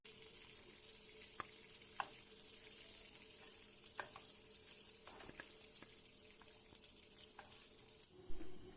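Hilsa fish frying in mustard oil in a pan, a steady soft sizzle with occasional sharp crackles and pops, faint and close, ending with a short clatter.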